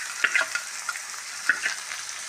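Soya chunks stirred in a hot pan, sizzling and frying steadily with a few distinct scrapes of the spoon, close and fairly quiet, with no voices.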